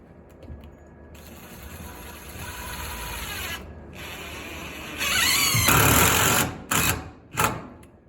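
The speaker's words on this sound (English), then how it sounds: "So he's going to put 2 screws there." A power screwdriver drives screws into the framing of an interior wall beside a stairwell trimmer joist, whirring steadily and then rising into louder grinding bursts as each screw bites, close up.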